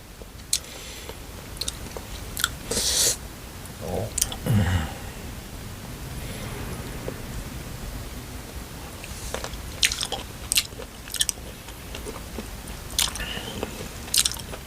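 Someone eats blanched squid dipped in a seafood sauce, with close, crisp bites and chewing that come in irregular bursts against quiet room noise, and no one speaks.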